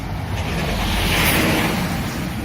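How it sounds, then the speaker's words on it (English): A bus passes close by a parked 2005 Nissan Tiida Latio, its broad, steady roar swelling toward the middle and easing off, with a windy, rushing wash over the whole pass and no talking. "just wait for this bus to pass"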